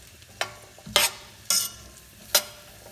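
Carrots tossed in oil in a pot for carrot stew, heard as four quick bursts of stirring and scraping spaced about half a second apart, close and moderately loud with nothing else in between.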